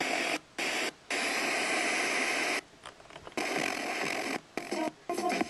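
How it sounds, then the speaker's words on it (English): A Sangean WFR-28D portable radio is tuned across the FM dial, giving bursts of hiss and static that repeatedly drop out to near silence, with several short gaps near the end. "you'll hear the sound cuts out a little bit as you turn the dial"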